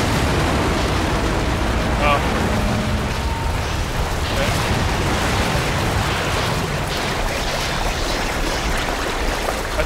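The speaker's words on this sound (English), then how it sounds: "Well, look at all that fire." Roaring fire in the BioShock game, a dense continuous rumbling crackle with occasional bursts and pops, loud and steady throughout with no voice.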